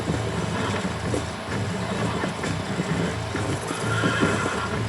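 A horse in the video game Red Dead Redemption neighs and whinnies over the clip-clop of hooves, with steady background ambience and no talk.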